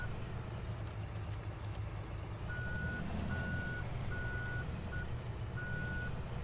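A reversing beeper repeats steadily over the heavy low rumble of a tractor engine as a trailer backs toward a field in Farming Simulator 17, with the beeps sitting clearly above the constant drone.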